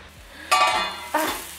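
Spinach going into a hot pan and a lid being set on top, giving two sharp metallic clanks with a faint sizzle underneath, close by.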